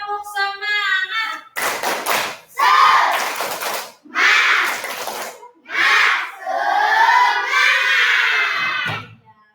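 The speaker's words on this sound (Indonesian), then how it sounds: "Semangat ya, kita tepuk semangat." A class of children performs the tepuk semangat routine, loud rhythmic group clapping broken up by energetic shouted chant phrases in several bursts, close and lively, led by a teacher.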